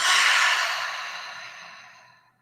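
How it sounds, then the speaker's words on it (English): A single slow, breathy exhale, airy and close, fading gradually to silence over about two seconds, with no talking. "You can take one more deep breath in and out."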